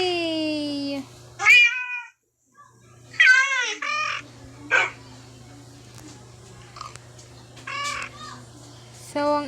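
A Minecraft cat meows several times in short, clear calls among other game creature noises, with a low steady hum underneath and a voice briefly in the background.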